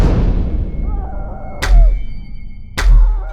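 Elevator escape sound effect in the SCP: Containment Breach video game: a low rumbling mechanical hum with eerie wavering tones, broken by two heavy metallic thunks about a second apart, loud and close.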